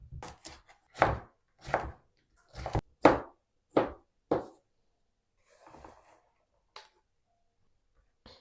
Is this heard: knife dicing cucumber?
yes